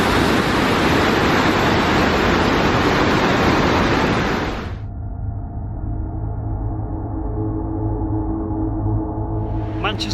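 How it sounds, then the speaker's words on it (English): Steady, loud rushing of the River Irk in Manchester where it flows into a culvert beneath Victoria Station; the broad water roar runs for several seconds, then cuts to a much quieter low hum. "the River Irk is just behind me here,"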